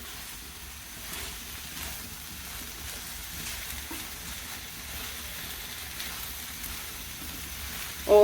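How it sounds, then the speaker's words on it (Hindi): A Chinese-style kebab mixture with cornflour is sautéed in a pan over a high flame, giving a soft, continuous sizzle and frying hiss at modest volume. "इसको हम हाई फ्लेम करके अच्छे से सोते कर लेंगे"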